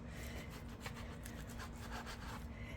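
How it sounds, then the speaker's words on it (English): Knife cutting frozen bacon into half-inch cubes, a faint continuous scraping and rubbing with soft rhythmic strokes and no speech. "So I'm cutting about a half inch cubes."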